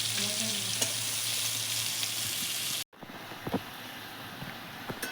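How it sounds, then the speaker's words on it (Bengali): Pumpkin leaves sizzle steadily in a pan with mixed vegetables and torn green chilli, a close, even frying hiss that dips briefly and resumes with light stirring clatter, no talk. "এবার কুমড়ো শাকগুলো সবজির সঙ্গে একটু হালকা ভেজে নেব"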